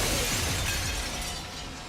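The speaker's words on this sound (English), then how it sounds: "Fucking stock glass shattering noise." Stock glass-shattering effect from a video game, a loud bright burst of breaking glass that washes out and fades over about two seconds.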